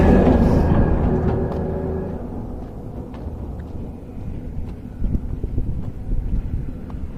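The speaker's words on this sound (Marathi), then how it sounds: "रेल्वे चालली आहे" A train rumbles steadily across a railway bridge near the Narmada river, its low heavy roar and clattering wheels mixed with gusts of wind on the microphone.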